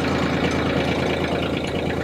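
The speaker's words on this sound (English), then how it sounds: "I'm driving the tractor on the property!" A tractor engine runs steadily while being driven on a property, a loud, close, continuous rumble with a rapid knocking pulse and no pauses.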